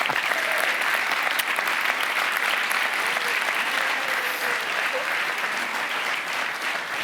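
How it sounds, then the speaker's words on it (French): Dense, sustained applause from a comedy-show audience at an evening stand-up event in Pigalle, steady and full throughout without a break. "Applaudissez encore très fort Ziz, s'il vous plaît."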